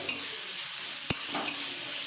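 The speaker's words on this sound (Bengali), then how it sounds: "আমি ভাজা ভাজা করে নিই পেঁয়াজগুলো" Sliced onions frying in a pan give a constant close sizzle, broken by a sharp knock or two of the spatula as they are stirred.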